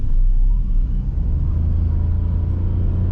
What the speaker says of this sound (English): let's put it to the power mode, and let's accelerate once again as soon as it's the green light